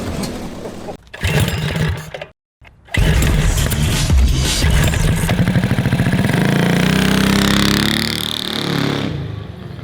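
A 450cc twin-cylinder engine fitted to a push lawn mower revs hard and loud up close, briefly cutting out before roaring back and holding a raspy, rising drone.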